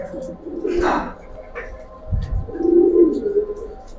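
A pair of silver pigeons coos in a loft, low murmuring coos rising and fading twice over a few seconds, close by, with some voice and handling noise around them.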